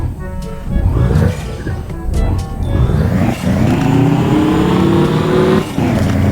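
A heavy video game army transport truck engine revs and roars through gear changes, loud and continuous, with brief clicks and a voice faintly underneath.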